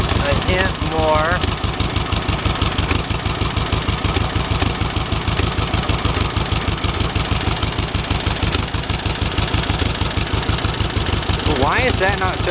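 A dune buggy engine runs and idles close by in a steady, loud, rough pulsing rhythm, with a few faint voices over it.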